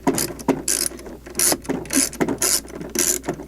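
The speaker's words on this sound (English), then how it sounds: "And with that, we'll just start taking out these screws." Screws being driven out of the steering column firewall bracket on a classic Mustang during an electric power steering install, giving a series of close ratcheting clicks in short bursts about every half second.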